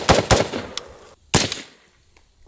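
Suppressed rifle shots, from a Bushmaster ACR or PSA JAKL fitted with a suppressor in place of its muzzle brake, ring out as two quick close reports, a lighter pop, then one more sharp shot before fading to quiet.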